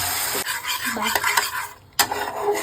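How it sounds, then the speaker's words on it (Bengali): Masala spice paste fries hard in a pan, with a loud sizzle, metal spoon scrapes and clinks against the pan, a short dip in the hiss, then a sharp utensil knock as the sizzle resumes. "এবার মশলাটা কষিয়ে নিই"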